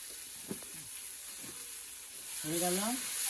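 Soya chunks sizzle in a pan as garam masala goes in, a bright continuous frying hiss under a woman's brief speech that swells louder toward the end.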